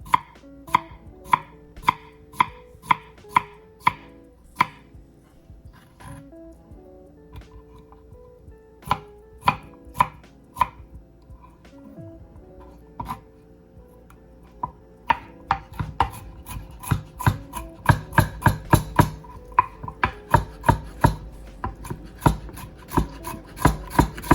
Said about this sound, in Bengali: যে শসাটা আমি কাটতেছি দেখেন